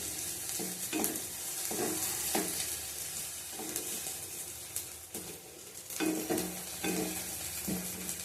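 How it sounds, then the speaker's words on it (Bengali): Onions fry in a pan with a soft continuous sizzle while a spoon scrapes and stirs in repeated strokes, quiet and close, with no talk. "পেঁয়াজটা ভাজা হয়ে গেছে।"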